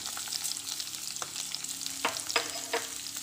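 Onions sautéing in a pan while making garlic pickle, a steady soft sizzle with a few brief stirring scrapes, close and moderately quiet, no talking.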